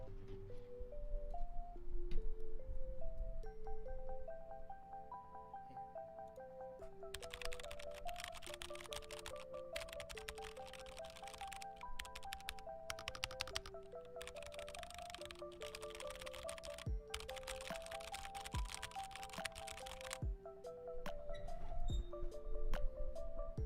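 Rapid clicking keystrokes on a mechanical computer keyboard, sustained typing bursts with short pauses, close and clear over soft background music.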